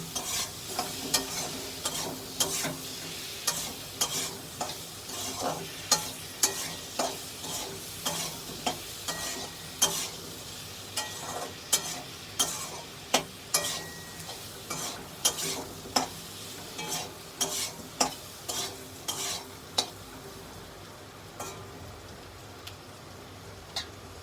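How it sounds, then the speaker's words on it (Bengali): Boiled mussels are stir-fried in a pan, giving a low sizzle under a long run of regular sharp spatula taps and scrapes against the metal, close and without voices. "সেদ্ধ রাখা ঝিনুকটা দিয়ে দিচ্ছি ভালো করে কষে নেবো এটাকে"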